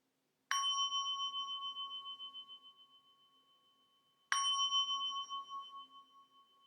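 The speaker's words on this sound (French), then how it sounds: "Et je me prépare à écouter 2 sons de cloche." Two separate strikes of a meditation bell, each a clear ringing tone that hangs and slowly decays, the second following about four seconds after the first, heard alone in a quiet room.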